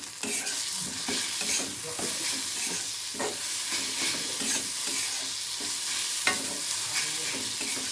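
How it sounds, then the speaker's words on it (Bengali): Boiled soybeans tossed with chaat masala are stirred in a pan, a steady run of scraping strokes over a soft continuous sizzle, close and moderately loud with no talking. "ভালো করে নেড়ে নেব।"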